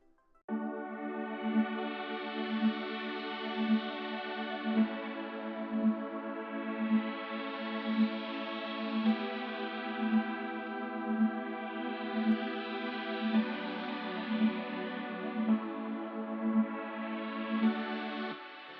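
Sustained synth string-machine pad playing inverted chords, changing every few seconds, with a steady soft pulse underneath; rich, wide, and continuous with no talking.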